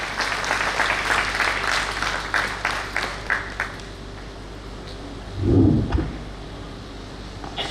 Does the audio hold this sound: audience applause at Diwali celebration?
yes